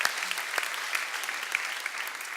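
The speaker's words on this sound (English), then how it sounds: "big round of applause for all these insane hackers" Audience applause at a PhoneGap developer conference, steady dense clapping from a crowd throughout the short moment, fairly even in loudness.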